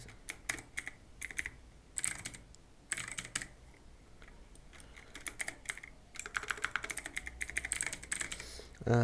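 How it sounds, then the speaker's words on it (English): A password is typed on a computer keyboard in quick clusters of close, crisp key clicks separated by short pauses, with a denser burst of keystrokes toward the end. "now just type your old password here and then new password"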